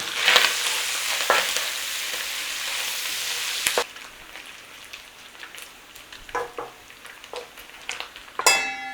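Bacon frying in a pan, an intense crackling sizzle that drops abruptly to a quieter spatter with scattered pops, scrapes and a final clatter.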